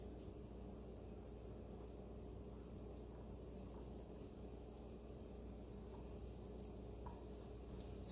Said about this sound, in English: I add some of my onions to it and then I let it cook some more.